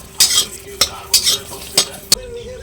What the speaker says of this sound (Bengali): গরম কড়াই প্রথমে আগে কাঁচা লঙ্কা আর রসুন ভেজে নেব।